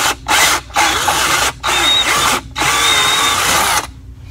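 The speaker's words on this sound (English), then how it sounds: "when drilling metal, go as slow as you can." Close, loud DeWalt drill biting into an aluminum hookah part in several short bursts separated by brief pauses, each run a steady grinding whine.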